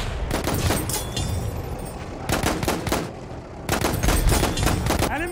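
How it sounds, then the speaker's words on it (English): Bursts of automatic gunfire from a video game shooter, a machine gun rattling in rapid volleys: two long strings of shots with a shorter pause between them, loud and close, with no talking. "Machine gun over there!"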